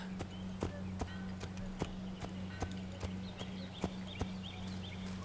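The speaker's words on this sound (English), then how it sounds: "I have to walk the horse through these cities" Horse hooves clip-clop at a steady walking pace through a city street in the video game Assassin's Creed, regular hoof strikes close and clear over a low ambient hum.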